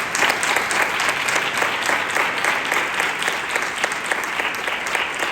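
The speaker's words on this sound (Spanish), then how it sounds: "Un aplauso para ella." A crowd at a pregón for the Virgen de la Cabeza in Almería breaks into loud, dense applause for the first romería sister, a close, continuous clatter of many hands throughout.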